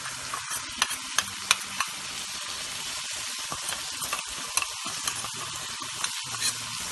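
Mutton pepper fry is stirred with a dry spice mixture in a hot pan. Steady sizzling and frying run underneath repeated scraping strokes of the spoon, with no talking.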